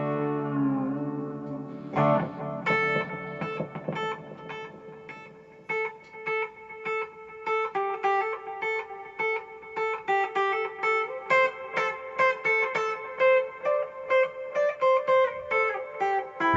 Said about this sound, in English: So that's the Dispatch Master, which is a combo reverb and delay. It sounds like an analog delay almost.